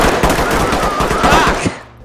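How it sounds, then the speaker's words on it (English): Dense, rapid gunfire from a tactical shooter video game, a loud sustained burst of overlapping automatic shots lasting nearly two seconds before cutting off into a fading tail. "I saw a pistol. I shot."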